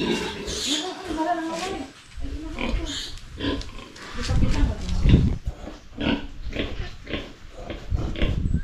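Farm pigs, resting sows with piglets, grunt and snort in uneven bursts close by, while a person talks over them throughout.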